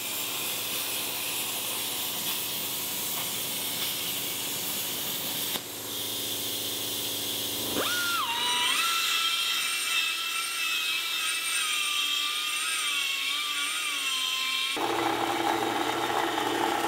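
A CNC plasma table cuts a piece of steel angle for a safe bracket, giving a steady loud hiss joined midway by a high whine, with abrupt shifts in tone as the cut proceeds.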